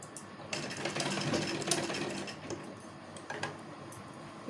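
Sewing machine stitching a lined kurti, a fast continuous mechanical rattle with brief pauses as the fabric is repositioned, close and fairly loud with no speech.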